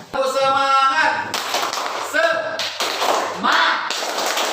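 A classroom of students claps out a fast rhythmic 'tepuk semangat' spirit chant, with a teacher calling out, voices chanting and claps in quick repeated bursts over lively talk.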